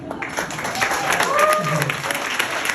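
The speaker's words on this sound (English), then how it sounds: "Let's get a big round of applause for both of those beautiful toasts" Wedding guests burst into warm applause after the toasts, a lively close round of clapping that swells and stays steady, with voices faintly mixed in.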